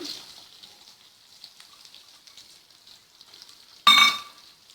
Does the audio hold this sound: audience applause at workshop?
no